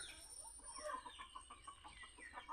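A hen clucks in a short series of soft, quick calls in the countryside, faint and close to the microphone.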